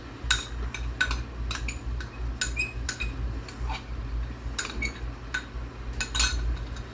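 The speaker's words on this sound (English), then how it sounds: "We're gonna put the cornstarch slurry in." Cornstarch slurry going into a pan of cashew chicken brings a string of light metallic clinks and taps of a utensil against the pan, spread irregularly over a low steady kitchen hum, with no talking.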